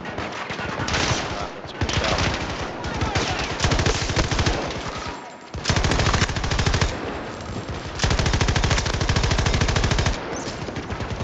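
A light machine gun in Battlefield 2042 fires long, loud, rapid automatic bursts that run almost without a break, with only brief gaps between the sustained strings of shots.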